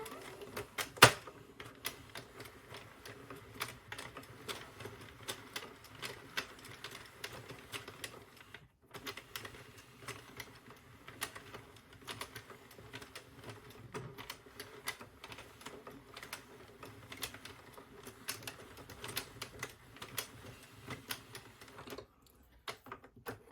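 A yarn knitting machine casts on with a steady, rapid mechanical clatter of needles and carriage, close and continuous for over twenty seconds with one brief pause, and no talking.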